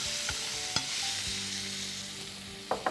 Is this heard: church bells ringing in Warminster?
no